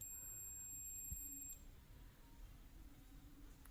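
A multimeter's continuity beep as the probe touches a ground point on a Jio F120B phone board: a thin, steady high-pitched tone that stops sharply after about a second and a half, leaving quiet background hum.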